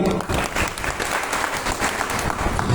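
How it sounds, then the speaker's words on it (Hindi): Audience giving a speaker a hearty round of applause, thick continuous clapping from many hands close by, steady and loud from start to finish. "सर के लिए जोरदार ताली"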